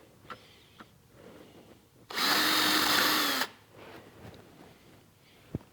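A power drill bores a hole in a Ford C4 automatic transmission valve body, one loud whining burst of about a second surrounded by quiet shop sounds and faint clicks.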